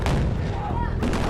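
A large explosion set off on a Transformers film set, a loud, sustained rumbling blast that fills the whole moment, with a second surge of noise near the end.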